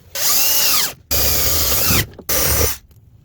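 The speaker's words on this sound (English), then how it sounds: "I just have a 5/8 spade bit on here" A power drill fitted with a 5/8 spade bit bores a hole in an RV dashboard in three loud bursts, the motor whining up and down between brief pauses.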